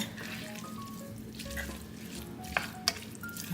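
Seasoned ground beef sizzles and simmers in a pan with a soft, steady crackle, and two brief clicks stand out near the end.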